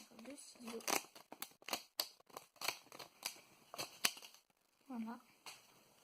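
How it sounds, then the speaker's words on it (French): Scissors snipping open a Pokémon Sun and Moon booster pack: a series of crisp, close cuts and crinkles of foil wrapper in quick irregular rhythm, with a person speaking over them. "il faudra se munir de ciseaux"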